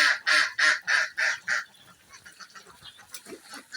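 Farm ducks just let out to feed give a run of loud, rhythmic honks, about six close calls in a row, then quieter scattered quacks and rustling around the flock.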